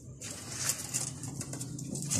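A pigeon offered at a Thursday bird sale coos softly amid brief bursts of wing flapping and light rustling, close by and fairly quiet.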